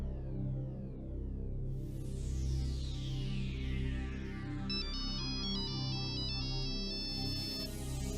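A phone ringtone plays a bright, repeating electronic melody that enters partway through and carries on steadily over a low background bed, fairly clear and close, with no talk over it.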